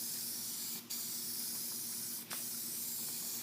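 White spray lacquer hisses onto glass in long continuous bursts from a nearby can, each briefly broken by a quick pause before spraying resumes.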